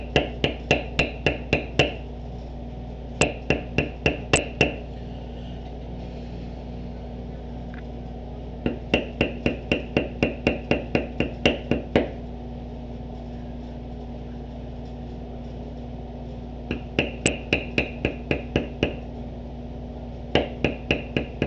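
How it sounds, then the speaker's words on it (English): A checkered beveler hammered into leather during lattice tooling, struck in quick bursts of sharp, evenly spaced taps separated by short pauses, close and clear. "This is a checkered beveler, and I want the checkering"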